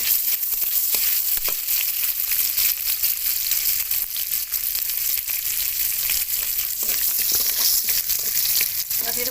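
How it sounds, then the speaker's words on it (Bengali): Whole garam masala crackles in hot oil in a pan during a jackfruit and prawn curry. It gives a continuous close sizzle dotted with sharp, rapid spice pops throughout. "ফোড়নে দিয়ে দিচ্ছি গরম মশলা, গোটা গরম মশলা"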